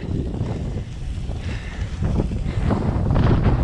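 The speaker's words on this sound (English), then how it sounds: "It's always windy." Wind gusts buffet the microphone along an icy island rail trail in winter, a steady low roar that swells and strengthens toward the end, with no talking.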